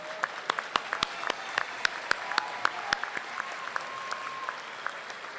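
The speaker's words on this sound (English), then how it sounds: "Let's give them another big round of applause." Graduation audience applauding at a school district event, a steady bed of crowd clapping with distinct individual claps cracking out near the front, continuing throughout.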